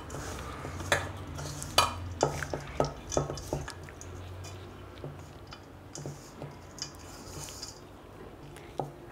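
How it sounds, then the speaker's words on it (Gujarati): Spiced masala filling for stuffed bitter gourd being mixed by hand in a metal bowl, with a scattered run of soft clinks and taps that is busier early on, then quieter and sparse. "આપણે એને હાથેથી સરખું મિક્સ કરી દઈશું."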